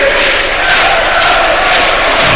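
Fulham supporters sing together in the stadium during a match against Luton Town, a dense, loud and continuous crowd chant filling the ground without a break.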